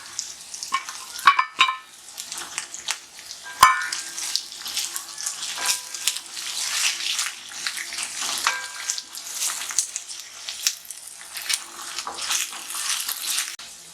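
Boiled onion goes into a pan with potato masala filling for dosa, making close sizzling and wet stirring sounds with scattered clinks against the pan over a steady frying hiss.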